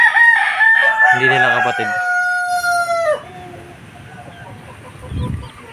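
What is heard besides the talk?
Sweater gamefowl rooster crowing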